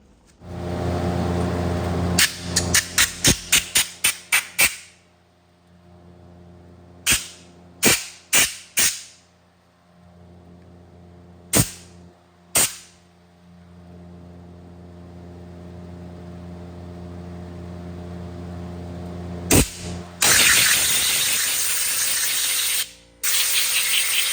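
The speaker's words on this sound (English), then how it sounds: "Yep, this is gonna need an air gun." A compressed air gun blows out the passages of a 4L80E transmission valve body, firing repeated short, sharp hissing blasts in quick clusters, then scattered single bursts, ending in a longer sustained rush of air, all loud and close.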